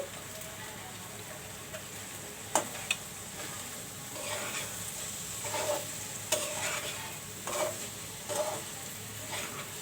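Boiled chana dal stirred into a hot pan with soybeans, a soft continuous sizzle under a spoon scraping the pan in irregular strokes, with a sharper clack now and then and no talking.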